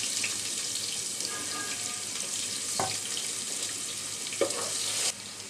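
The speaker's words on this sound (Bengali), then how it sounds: "আমি ডিমগুলো বেজে নিলাম দুইটা ছোট সাইজের পেঁয়াজ কুচি দিয়ে দিলাম" Chopped small onions frying in oil after eggs were fried for egg biryani, a steady close sizzle with faint stirring and brief clatters, ending with a drop in level.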